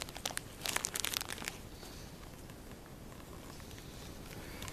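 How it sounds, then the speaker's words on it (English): Rubber feet of a tripod rubbing and crinkling against plastic, a burst of close scratchy crackles early on that settles into a faint, steady rustle. "The rubber on this tripod was like moving against the plastic"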